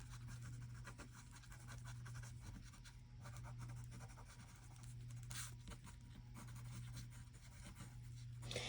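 A pencil scratching across paper while a skeleton gesture sketch is drawn, with faint, continuous scribbling strokes under a steady low hum.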